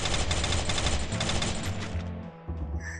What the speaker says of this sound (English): he's trying to fire on me